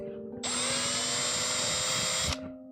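A power drill widens screw holes in a part from a 3D printer kit: one high, steady whine of about two seconds, close and fairly loud, starting and stopping abruptly over a faint low hum.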